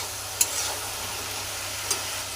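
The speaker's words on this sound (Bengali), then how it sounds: "মশলাটা ভালো করে কষে নেব" Spice paste with rohu fish and cumin powder and tomato frying steadily in a pan, a low continuous sizzle with a couple of sharp stirring scrapes near the start and end, no voices.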